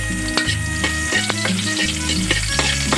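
Garlic sautéing in hot oil while cooking bamboo shoots in coconut milk, a steady close sizzle broken by sharp scraping stirs about every half second, with no talk.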